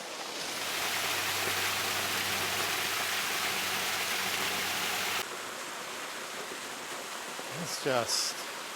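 A cold stream rushes steadily as a broad, hissing wash of water at Bluffs Bridge in Fiordland, New Zealand, with a brief voice sounding near the end.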